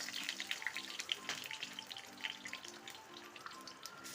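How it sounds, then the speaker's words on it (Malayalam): Whole spices such as cinnamon, cloves, cardamom and bay leaf frying in hot oil in a kadai, a close, continuous crackling sizzle with scattered pops. "എണ്ണ ചൂടായി വന്നിട്ടുണ്ട്. അതിലേക്ക് പട്ട, ഗ്രാമ്പൂ, ഏലക്ക, കച്ചോലം, ബേ ലീഫ് എല്ലാം കൂടെ ഇട്ട് കൊടുക്കാം."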